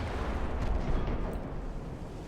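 Distant naval gunfire from a 10-inch gun aboard a German Empire warship in the Ultimate Admiral Dreadnoughts video game, a muffled low rumble rolling and swelling at moderate volume without sharp distinct cracks.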